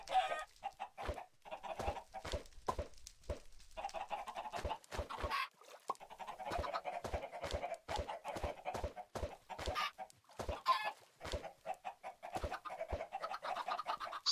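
Chickens in the Minecraft video game cluck in short, clipped bursts, repeated many times at an uneven rhythm with brief gaps, clear and close with no talking.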